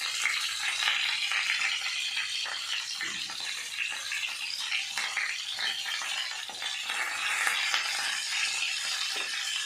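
Salted potatoes fry and sizzle in a pan while being stirred, a steady, dense crackle that runs unbroken for the whole stretch with no talking.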